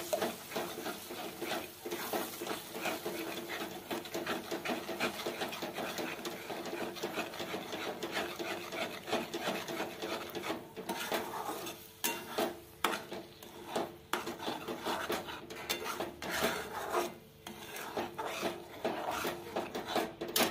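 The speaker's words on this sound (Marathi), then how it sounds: "6 अंडे मी आता मस्त मिक्स करून घेते" Six eggs are mixed in a pan for egg bhurji, making continuous scraping and rubbing strokes of a utensil against the pan surface, close and steady for about twenty seconds.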